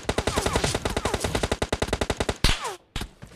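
Rapid automatic gunfire from a PUBG Mobile Lite match rattles off in a steady, dense burst for over two seconds, then a sharp pause and a few more heavy shots, loud and close with no talking.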